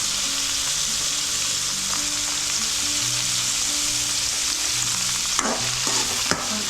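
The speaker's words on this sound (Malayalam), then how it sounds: "പിന്നെ പുറകെ സവാള അരിഞ്ഞത് ഒക്കെ ഇടുക. ഓക്കെ, ഇട്ടിട്ട് വഴറ്റണം." Chopped onions, added after ginger, garlic and shallots, sautéing over high flame in a pan for spicy potato bhaji: steady loud sizzle with stirring scrapes and a few utensil clacks near the end, no talking.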